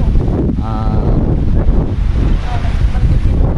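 Strong wind buffets the microphone on a boat over open water, a constant roar with sea noise beneath and a brief voice partly buried in it.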